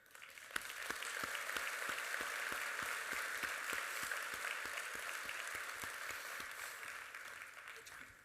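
An indoor county-meeting audience applauding a county supervisor, a dense, steady wash of clapping that lasts the whole stretch at moderate loudness with a few sharper claps standing out.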